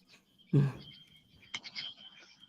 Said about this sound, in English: No, I'm hearing the frogs. Definitely hearing the frogs too.